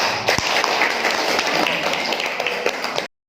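A workshop audience of teachers claps together in a hall, a steady, even wash of applause that runs for about three seconds and then cuts off abruptly.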